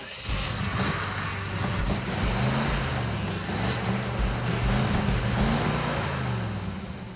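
Car engine fitted with a new high-performance ignition coil idles steadily at raised revs, a continuous nearby drone with a low rumble and no talk.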